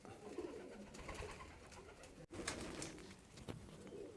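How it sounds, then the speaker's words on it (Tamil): An English pouter pigeon coos steadily at close range, a soft ongoing murmur with one brief break partway through. "இதுக்கு பேர் இங்கிலீஷ் பவுட்டர்னு பேர்"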